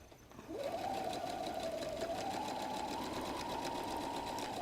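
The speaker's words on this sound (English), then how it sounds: "Sew all the way up to the top." A sewing machine stitches the side seam of a messenger bag, starting after a short quiet moment and then running as a steady, close, rapid whir with an even pitch until the end.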